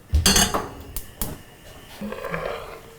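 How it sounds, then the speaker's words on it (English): Pots, bowls and utensils clatter in a home kitchen while shrimp pasta is cooked, with a loud clanking burst at the start, a sharp knock after a second, then softer scraping and handling. "We're gonna put this back in the bowl, and then reduce it down even further."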